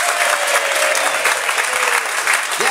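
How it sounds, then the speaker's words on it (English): A large audience claps and cheers at a comedy show, with dense, steady applause and raised voices filling the room, close and loud throughout without pause. "everyone clap and cheer"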